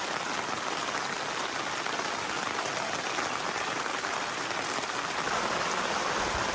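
Steady, dense rain pouring down at an overnight campsite, a constant broadband hiss of drops hitting surfaces with no pauses, fairly close and even throughout.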